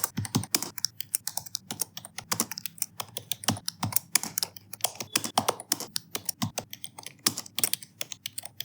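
Steady, rapid typing on a computer keyboard while writing C code, with dense, close clicking keystrokes continuing without pause and no talk.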